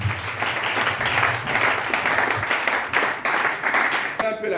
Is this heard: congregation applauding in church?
yes